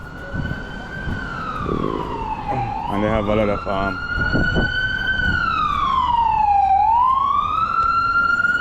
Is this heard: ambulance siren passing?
yes